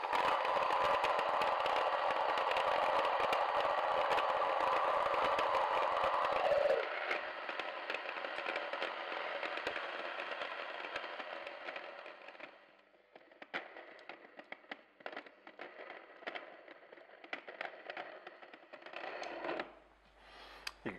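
A Sana grain mill grinds dried popcorn kernels into cornmeal with a steady, dense crackling whir that drops in level partway through, then turns sparse and rattly as the last kernels pass, close and loud throughout.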